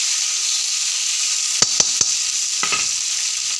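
Onion, tomato and slit green chili frying in a pan, giving a steady close hiss and sizzle with a few sharp scraping clicks as the mixture is stirred.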